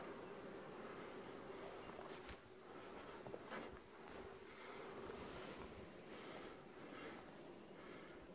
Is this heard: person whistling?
no